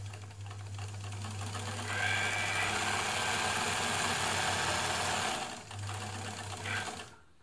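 An ELNA Supermatic sewing machine runs steadily at close range, a continuous mechanical whirr with a low hum that pauses briefly near the end, then resumes before stopping.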